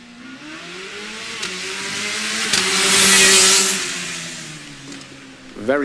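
Formula Student race car launching from a standing start on an acceleration run, the engine revving hard and rising through gears as it pulls away, loud and then fading.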